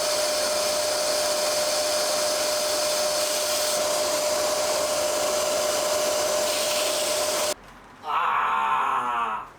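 A steady, loud vacuum motor whine drones on, then cuts out abruptly near the end before a brief roaring surge returns.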